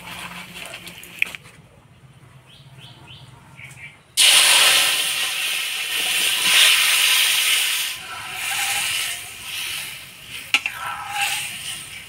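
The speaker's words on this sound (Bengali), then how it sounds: "এবার ডাল ফোড়নে দিয়ে দিব।" Urad lentils tipped into hot oil tempered with dried red chilli, cumin, bay leaf and chopped ginger, bursting into a loud sudden sizzle that hisses on and fades, after a quieter stretch with a voice.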